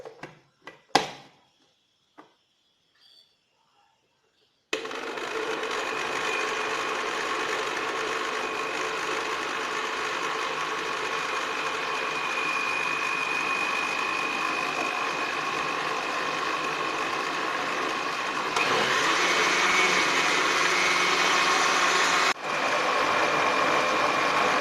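A blender whirs loudly and steadily while mixing carrots, milk and yogurt into juice, starting abruptly after a few faint clicks and handling sounds, then briefly rising in pitch and intensity near the end before cutting off.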